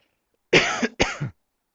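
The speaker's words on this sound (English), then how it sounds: "I'm having some cough." Two harsh coughs in quick succession, close and loud, with silence before and after.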